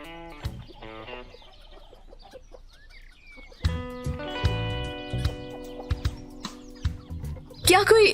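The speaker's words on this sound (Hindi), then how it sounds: "इन मुर्गियों को डाल देते हैं ना थोड़ी सी" Chickens clucking in short scattered bursts alongside other household sounds, with louder clucks and a rising burst near the end, under a mix of background noise.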